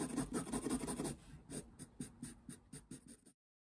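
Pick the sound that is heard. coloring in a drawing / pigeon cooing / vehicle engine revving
coloring in a drawing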